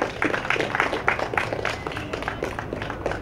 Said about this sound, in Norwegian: En applaus for Jon Ludvig!